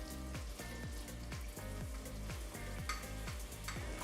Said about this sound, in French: on va mettre le beurre à fondre et ensuite on rajoutera de la farine